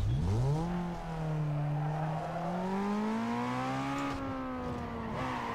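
In Need for Speed Underground 2, a front-wheel-drive car engine revs hard and climbs in pitch, holding a loud, rising tone with a screech of tires mixed in during drifting.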